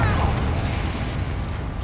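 Confringo spell blast in Hogwarts Legacy, a dense, loud rumbling burst of fiery explosion noise that fills the whole short stretch and fades slightly at the end.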